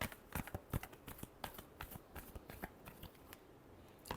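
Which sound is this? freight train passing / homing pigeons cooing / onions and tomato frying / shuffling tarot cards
shuffling tarot cards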